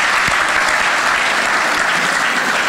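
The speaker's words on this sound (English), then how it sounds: "how about a round of applause for all the Greek tiger moms in the audience here" Banquet audience at a leadership conference's grand dinner bursts into dense, loud, steady applause from many hands, continuous throughout with no pauses.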